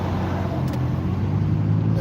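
Steady road traffic heard during a morning commute drive, a continuous low rumble of cars and motor vehicles moving nearby at a moderate level.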